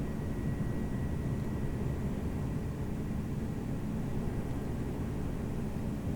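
Airbus A320 engines running in X-Plane 11, heard as a steady, loud, broadband roar with a faint high whine that holds unchanged throughout, no talk over it.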